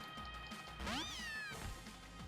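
Meowth's synthesized cry from Pokémon Ultra Sun, a short rising-then-falling electronic meow over game battle music, lasting about half a second.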